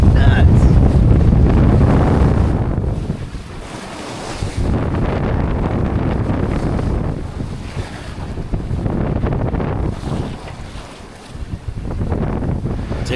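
A sailboat underway in strong wind, bound for the Kāneʻohe Bay sandbar, with loud, steady wind rush over the microphone and waves washing against the hull throughout.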